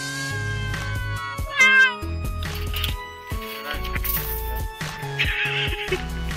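A rescued cat meows repeatedly in a fairly quick series of short, rising and falling calls, close by, with background music running underneath.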